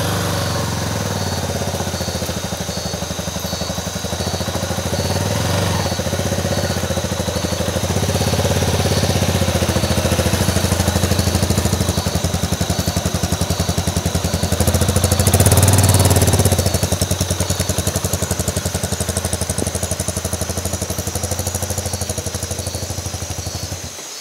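A motorcycle engine idles in the jungle with a steady, chugging mechanical drone that swells slightly midway, close and continuous with no voices.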